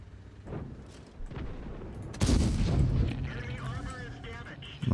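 A tank cannon fires in World of Tanks, a sudden heavy boom partway through followed by a rumbling tail, amid ongoing battle noise with a player talking over it.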